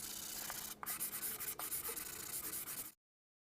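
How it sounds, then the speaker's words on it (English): Hand block sanding of auto body filler over a repaired car dent with 150 grit sandpaper on a small block, a steady close rasping scrub in back-and-forth strokes with two brief pauses, running alone for about three seconds. "we'll block over it with some 150 grit sandpaper on a small block"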